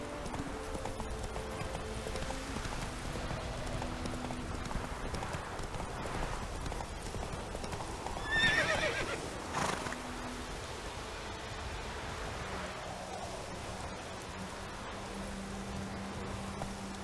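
Horse hooves clip-clop steadily through a game world in The Witcher 3, a continuous mid-level trotting rhythm with a brief louder whinny-like burst partway through, over soft ambient rustle and no speech.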